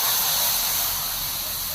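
Water is poured into a hot frying pan still greasy from frying chicken, producing a loud, steady, broadband hiss that fades slightly over a couple of seconds.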